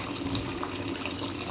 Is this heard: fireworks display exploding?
no